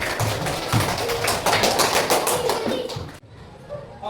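A classroom of students claps for a classmate, a dense burst of many hands applauding for about three seconds before it stops abruptly, followed by quiet room sound.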